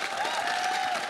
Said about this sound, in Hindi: ताली बजा दो यार, इट्स ओके।